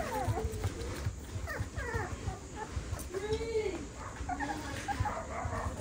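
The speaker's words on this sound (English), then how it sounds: "Princess Fiona is weaning her puppies all by herself" Six-week-old West Highland White Terrier puppies whimpering, yipping and squeaking in quick overlapping bursts close by, with a low background murmur throughout.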